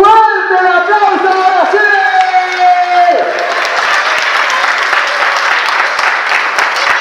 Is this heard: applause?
yes